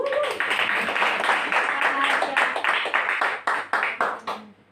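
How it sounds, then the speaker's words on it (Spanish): Applause from a group builds to a dense patter, then thins out into a few separate claps before stopping, with voices underneath. "Un fuerte aplauso para Laura García de Lucas."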